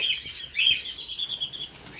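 A flock of lovebirds chirps in quick, overlapping high-pitched tweets, busy and continuous, fairly close by with no talking.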